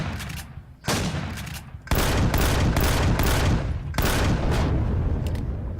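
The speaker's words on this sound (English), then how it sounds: "I must have missed the first time. I had to shoot 5 times." A gun in the game Empyrion: Galactic Survival fires several loud bursts at a spawner, dense rattling volleys in distinct bursts with short gaps between them.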